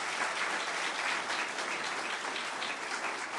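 Audience applause at a mosque dedication, a dense, steady wash of many hands clapping throughout, fairly loud and even with no clear break.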